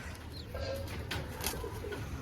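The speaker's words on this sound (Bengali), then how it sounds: "লংদমা পায়রা, এইসব পায়রা খুব রেয়ার কালেকশন বলতে গেলে" Long-tailed pigeons coo softly nearby, with a few low, repeated murmuring calls over quiet background noise.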